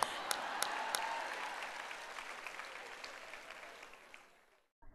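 A church or sermon audience claps in applause, a fairly faint crowd patter with a few sharper claps early on that fades away before a brief silence at the end.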